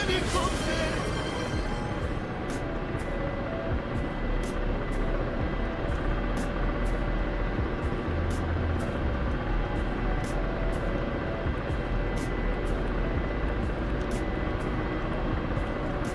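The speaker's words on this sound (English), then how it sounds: "Helicopter, helicopter!" Helicopter in a multiplayer combat video game, a continuous loud rotor and engine drone with regular rhythmic blade chops throughout, thick with engine rumble and no talk.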